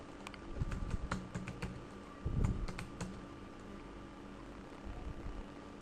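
Login ID and password being typed on a computer keyboard, a run of quick, soft key clicks in uneven bursts over a low steady background hum.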